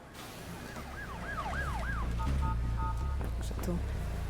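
Ambulance siren pulling into a hospital emergency department, a wailing up-and-down tone followed by short steady blips over engine rumble and background noise, fairly close and steady.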